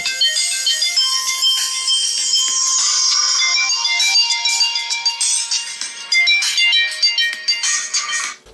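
A soft ringtone melody plays from the speaker of a Lenovo Vibe P1 smartphone, a bright chiming tune with a sustained tone and then quicker plucked notes, moderately quiet and heard alone.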